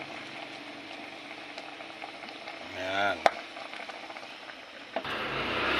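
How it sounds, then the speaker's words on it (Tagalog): A steady bubbling hiss of water boiling in a cooking pot for paksiw na bisugo, a Filipino vinegar-stewed fish dish, with a brief clatter partway through and a short spoken word near the start. "Ngayon naman kumukulo na siya."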